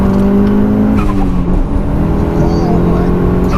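A 21-year-old Mitsubishi Evo 6 drives hard along a road, its engine loud and close as it revs and shifts pitch throughout.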